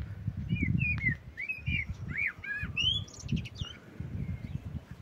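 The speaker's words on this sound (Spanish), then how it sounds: "¿Qué pájaro es el que silba?" Bright whistled bird calls repeat in short rising and falling phrases, fairly close, over a steady low rumble of background noise.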